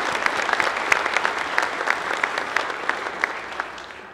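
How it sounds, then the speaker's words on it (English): Audience at a city council meeting applauding steadily, a dense wash of clapping hands that holds for several seconds, with no talk over it. "I'd appreciate if you give these people applause."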